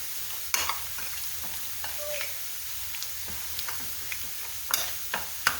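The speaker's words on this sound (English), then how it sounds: "We're just going to mix this together." A spoon stirs a salmon patty mixture for oriental salmon patties in a bowl, giving soft, scattered scraping and clicking strokes at an uneven pace, fairly faint and close, with no talking.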